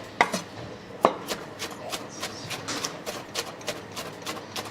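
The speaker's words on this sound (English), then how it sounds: "There's absolutely no better way to make a salad than with a giant machete." Giant machete chopping salad on a board in a Jerusalem food spot, a quick run of sharp knocking strikes in an irregular rapid rhythm, close and crisp, with a couple of brighter clinks early on.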